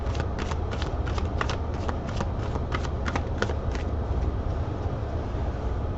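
Enchanted Map Oracle cards being shuffled, a steady run of quick riffling bursts for several seconds at close range, with no one talking.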